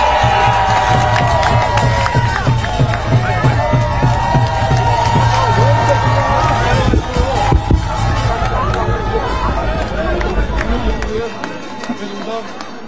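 A crowd cheers and applauds at an outdoor political campaign rally in Jongno, Seoul, a dense, loud roar of voices and clapping, with a speaker's voice over it and shouted chants, fading near the end.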